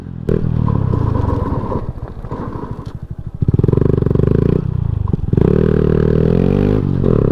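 A motorcycle running without its dB killer exhaust insert revs hard, its loud, raspy engine note climbing and dropping in repeated bursts with clattering blips, close up and without speech.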